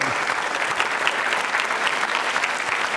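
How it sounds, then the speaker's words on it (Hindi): Quiz show audience at a school event applauding the winner with steady, dense clapping that holds at an even level for the whole stretch, crowd fairly close. "तालियां जोरों से बजाइए"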